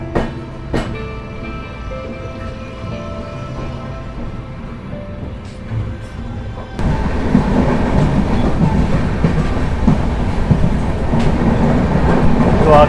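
The Jammu Rajdhani Express runs along the rails toward Katra, giving a steady rumble with rhythmic clickety-clack that swells sharply louder partway through as the noise opens up, with no talking.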